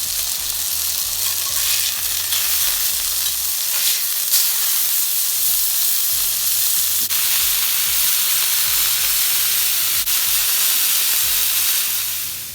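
Burger patties on a hot cooking surface sizzle and crackle steadily and up close after being flipped, a continuous dense hiss with no talking.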